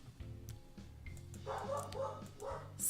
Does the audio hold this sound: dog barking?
yes